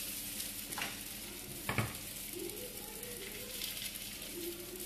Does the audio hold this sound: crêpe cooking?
yes